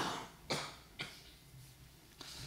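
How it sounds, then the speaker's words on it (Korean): Three short coughs from a pastor during a church sermon, two close together and a third after a pause, against a quiet, hushed background. "제가 좀 기침감이 걸려가지고"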